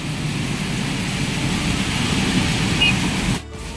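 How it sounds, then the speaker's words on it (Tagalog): A heavy rainstorm with strong wind and thunder roars as a broad, steady wash of noise with a low rumbling undertone, then cuts abruptly near the end. "inabot na kami ng napakalakas na ulan at napakalakas na hangin. May kasamang kulog at kidlat."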